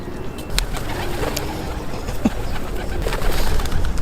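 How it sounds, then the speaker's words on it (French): Soft pigeon coos and a brief wing flutter over a steady outdoor background hum in Zurich, fairly faint and mixed with ambient noise. "Oh, les pigeons."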